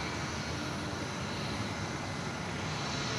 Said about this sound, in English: the Singapore 787s take a decent kicking of the runway